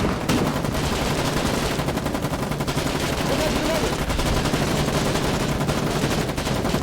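Dense, continuous gunfire from the war game Foxhole, rapid rattling shots overlapping loudly throughout with little pause, under a faint voice.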